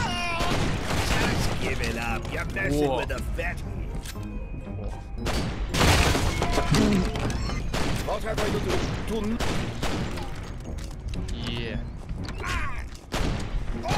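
Dense gunfire in the video game Guns, Gore and Cannoli 2, with rapid overlapping shots and bursts throughout and players talking over the shooting.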